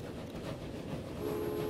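Train in the Transport Fever video game, a steady rolling rumble with rail clatter and a faint sustained horn-like tone entering near the end, continuous and fairly loud with no talk.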